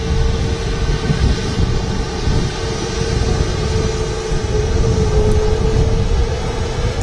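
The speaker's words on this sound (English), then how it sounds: "It's the Corendon Airlines 737 MAX 8." A Corendon Airlines Boeing 737 MAX 8 jet at Manchester Airport gives off a loud, steady engine roar with a sustained whine, continuous and close, and no voices.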